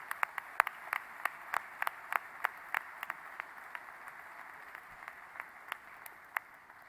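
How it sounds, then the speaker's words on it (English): Scattered applause from a summit audience honoring Isaiah House with an award: sparse, fairly faint claps over a soft hall hiss, thinning out toward the end. "Give a great round of applause to the Isaiah House for this first award."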